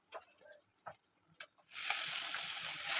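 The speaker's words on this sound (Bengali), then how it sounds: "পেঁয়াজ রসুনটাকে হালকা করে একটুখানি ভেজে নেবো" Onion and garlic paste hitting hot oil after tempering bursts into a loud, steady sizzle, preceded by a few light clinks and scrapes of utensils.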